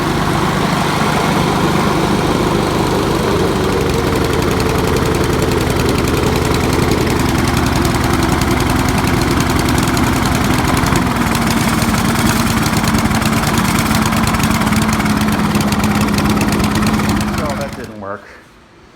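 A Honda HRB215 lawn mower engine, previously running poorly, runs loud and steady up close, droning without a break, then cuts out abruptly near the end.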